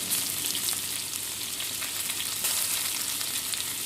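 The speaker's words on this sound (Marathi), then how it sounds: "थोडी मोहरी, जिरे आणि कढीपत्ता टाकायचे, मिरच्या टाकायच्या आणि कांदा टाकायचा" Mustard seeds, cumin, curry leaves, green chillies and onion frying in hot oil for poha make a steady, loud sizzle with a dense crackling hiss throughout and no voices.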